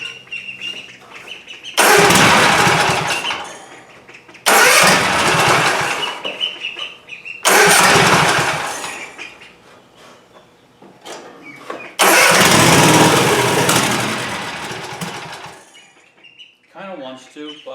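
Cub Cadet zero-turn mower engine with an aftermarket carburetor cranking and trying to start: four long, loud starter bursts, each sputtering without catching, close by, separated by short pauses.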